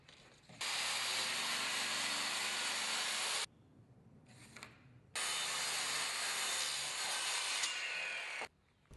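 3/4 inch plywood pieces being cut with a power saw: two long, loud, steady cuts separated by a short gap with a brief burst, close by and with no talk.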